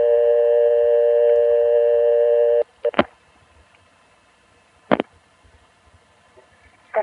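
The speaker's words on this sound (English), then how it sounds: "we picked up the phone, dialed a 1, cut into the 2600 toll trunk, and then were somehow clicked off onto the local recording" A 1976 telephone line dialed with a 1 into the 2600 toll trunk: a steady multi-tone signal holds for a few seconds, then cuts off, followed by several sharp, isolated clicks spaced a couple of seconds apart on an otherwise quiet line.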